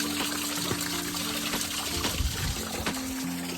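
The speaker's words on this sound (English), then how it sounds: "It's a spring that's been like this for 80 years. Crystal clear, cold water," Crystal-clear, cold spring water that has run for 80 years trickles and gushes steadily up close, a continuous loud wash of splashing that fills the whole stretch, with no voices.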